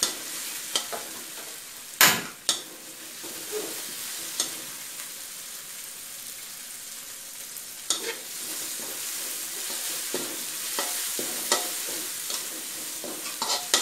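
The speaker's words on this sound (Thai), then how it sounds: "คั่วให้เขามีกลิ่นหอมขึ้นมาเลยค่ะ" Chopped bird's eye chilies stir-fried in a wok for a salt-and-chili shrimp dish: constant sizzling broken by sharp metallic scrapes and clanks of the spatula at irregular intervals, close and without talk.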